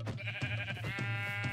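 Sheep bleating from the Minecraft 1.20 Bedrock Edition game, a steady buzzy bleat held through most of the clip with a low droning tone underneath, moderately loud and without any talk.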